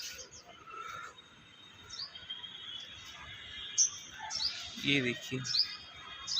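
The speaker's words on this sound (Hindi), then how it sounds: "वो देखिए चिड़िया आई है अभी मेरे गार्डन में एक" A small bird in a garden gives several short, faint chirps and tweets scattered across the clip, with a voice speaking briefly near the end.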